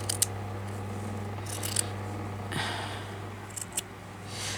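Scissors cut a piece of holed craft material for a patchwork journal cover, giving a few sharp, close snips and a soft slicing swish over a steady low background hum, with no talking.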